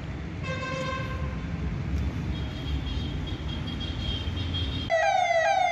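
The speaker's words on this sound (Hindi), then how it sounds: "मौन प्रारंभ व समाप्ति की सूचना सायरन बजाकर दी गई।" A steady, loud siren marking the start and end of a moment of silence drones continuously under a broad background rumble, then a second siren tone with a different pitch cuts in near the end.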